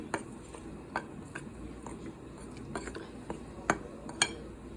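A potato patty mixture with gram flour, carom seeds, crushed pepper, cumin and salt is mixed by hand in a bowl, giving soft scattered clinks and scrapes against the dish at a quiet, close level.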